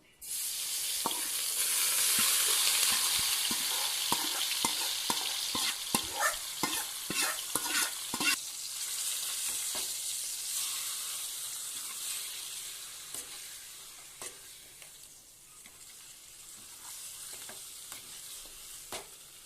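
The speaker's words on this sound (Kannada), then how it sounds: "ಈಗ ಇದನ್ನು 5 ನಿಮಿಷ ಚೆನ್ನಾಗಿ ಫ್ರೈ ಮಾಡ್ಕೊಳ್ಳೋಣ." Marinated chicken frying in about two tablespoons of oil for hotel-style chicken curry: a steady bright sizzle, loud at first, with a run of quick stirring scrapes and clicks that fades toward a quieter simmer.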